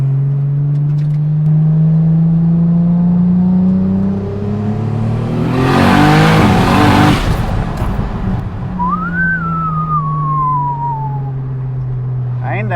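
A Toyota 2JZ engine in a Nissan S15 Silvia with an 8HP70 automatic gearbox revs up and drops in pitch through successive gear shifts, including a downshift, loud and close, with a brief rush of passing noise in the middle.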